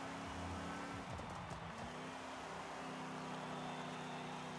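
Oldsmobile Tornado in Forza Horizon 5 running as a D-Class NASCAR-style racer, its engine droning steadily and loud with a brief shift or rev change early on, plus a hint of tire noise, with no talk.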